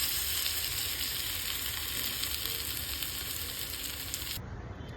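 Green-masala marinated pomfret fries on a hot tawa with a steady, close, dense sizzle that stays level throughout, then cuts off sharply near the end.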